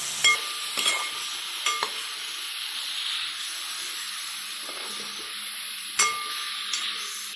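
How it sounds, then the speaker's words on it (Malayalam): Chicken rubbed with turmeric and salt sizzling in a pan, a steady bright hiss punctuated by a few sharp clinks of a stirring utensil against the pan, close and without speech. "ചിക്കൻ ഇതിലേക്ക് ഇട്ട് ഇളക്കി"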